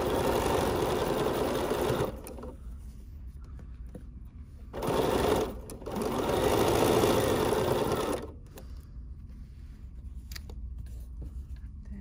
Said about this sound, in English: I'll be able to keep everything nice and flat as we sew through this on the machine